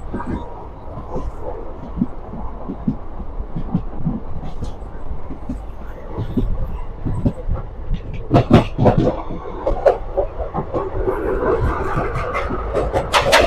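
Passenger train on the Kolhapur to Pune route, running over the Miraj–Pune double track: steady rumble of wheels on rails with intermittent clicks and rattles, louder bursts toward the end, heard from inside the carriage.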